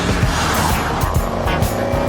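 A 1970s Maserati Bora, a mid-engined Italian supercar, drives close by with a loud, steady engine drone and rhythmic pulsing exhaust throughout the short stretch.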